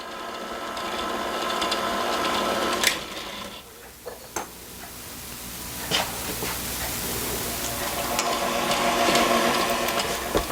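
An electric hand mixer beating cake batter as flour and milk are added in turns, a continuous close whirring drone that dips briefly midway with a few small clicks, then picks back up.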